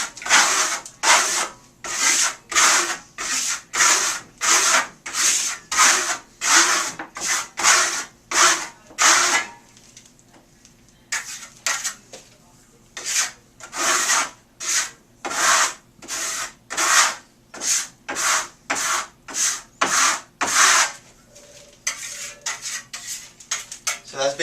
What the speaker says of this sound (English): the more it dries, the more you're going to come back and burnish it